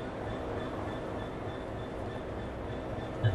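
A Class 66 diesel locomotive in Train Sim World rolls through a shunting yard, giving a steady low engine rumble and rail noise that hold at an even level throughout, with no talking.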